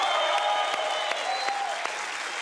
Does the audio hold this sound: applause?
yes